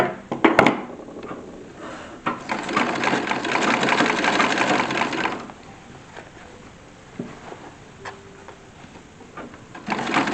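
A sewing machine runs in a steady burst of rapid stitching, stitching small tucks in drawers, then stops and gives way to quieter handling noises and a brief tone near the end.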